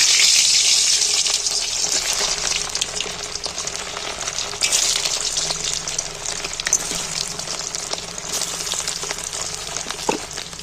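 Whole potatoes frying in very hot oil, a steady loud sizzle and bubbling hiss that continues throughout, with occasional light crackles and a brief clink near the end.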